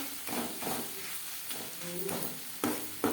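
Spice powders are stirred into fish paturi masala in a pan, giving several rhythmic scraping strokes over a faint sizzle, close and moderately quiet, with no talk.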